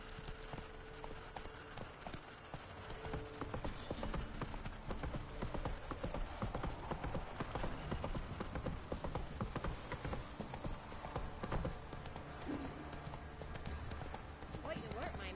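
Roach the horse trots through a Witcher 3 game world, hooves clopping in a steady rhythm throughout, mixed with ambient game sound and voices talking over it.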